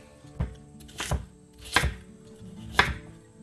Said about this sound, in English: Core, and we're going to slice this.